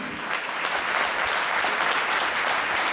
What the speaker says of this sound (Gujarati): આજે આપણે સૌ તાળીઓના ગડગડાટથી